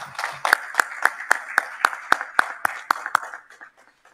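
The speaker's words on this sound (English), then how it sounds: "Thanks for your applause." At a hybrid business awards ceremony in Doha, sparse, evenly spaced claps ring out in a steady rhythm of about a dozen beats, then trail off softly.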